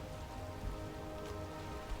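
Steady storm rain in the Valheim video game, a dense even hiss of drops pattering on surfaces with low rumbling underneath, continuous and fairly close with no voices.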